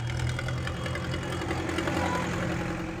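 Tractor engines idle and rumble as a convoy of about fifty tractors in Amroha gathers to head for Delhi, a close, steady low throb with rhythmic knocking pulses and faint voices mixed in.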